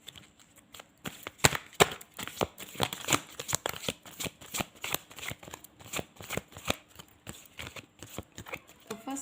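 Tarot cards being shuffled by hand in a steady run of crisp riffling and flicking bursts, close and fairly quiet, with no talking over it.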